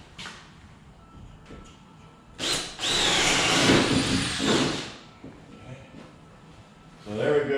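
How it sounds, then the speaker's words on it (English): A power drill fitted with a paddle bit bores into a mummy facade prop while lights are being mounted, a loud whirring burst of about two and a half seconds, set between quieter moments and talk. "this is just a paddle bit. If I can get to stay on my drill."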